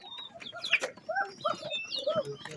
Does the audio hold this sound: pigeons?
yes